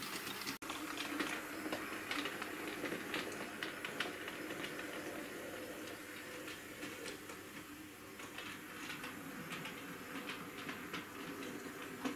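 A Bachmann OO gauge weathered BR black Robinson Class O4 model locomotive runs on a tight radius-2 track, giving a continuous whirring motor hum with faint rhythmic wheel clicks at close range and no talk.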